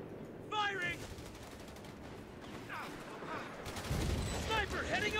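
Gunfire from a Company of Heroes 3 battle defending the Salerno beachhead, with rifle and machine-gun bursts rattling continuously beneath shouted voices and radio-style chatter.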